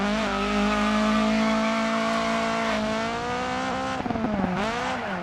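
A rally car engine in the DiRT 4 video game drones steadily at high revs, loud and sustained, then dips and rises near the end as gears shift and the tires slip.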